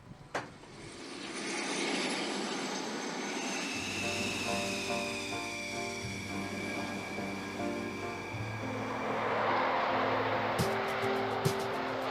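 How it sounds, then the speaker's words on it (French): Dassault Rafale fighter jet engines of the Normandie-Niemen squadron start up on an airfield tarmac in the Landes, a rising turbine whine building into a sustained roar heard outdoors at moderate distance. "balais parfaitement huilés pour une mise en route des réacteurs à l'heure prévue"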